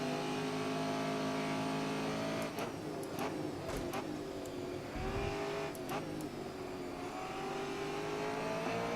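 A touring car engine in the Grid Autosport racing game drones steadily throughout, with a few quick shifts and revs breaking the tone partway through, loud and close, with no talk.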